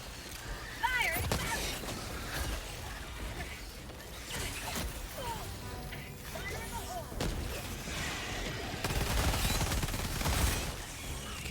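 Gunfire in Helldivers 2 crackles in busy bursts amid mechanical clatter and heavy impacts, with voices and game chatter mixed through the chaotic battle.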